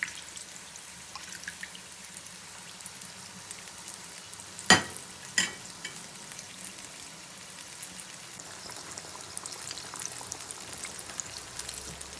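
Chicken pieces fry in about 1.5 litres of hot oil, a steady soft sizzle throughout with two sharper clinks or pops near the middle; fairly quiet, no talking.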